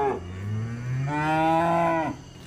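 A young cow at a cattle market lets out a loud, close moo that swells into a long, rising low call lasting about two seconds before it cuts off, with no talking over it.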